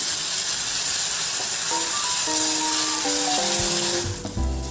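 Ground masala paste sautéed in hot oil, giving a steady close sizzling hiss under a brief synthesized musical tune that plays over it partway through.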